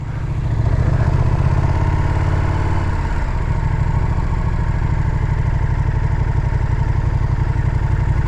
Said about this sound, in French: Alors écoutez un peu le son d'une Duke 1290 R.